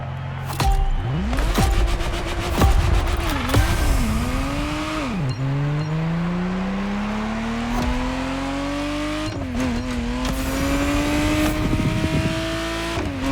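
Ferrari Testarossa engine in the racing game The Crew Motorfest, loud and close, revving through repeated upshifts with rising pitch sweeps and brief dips between gears, sustained across the whole stretch with no talking.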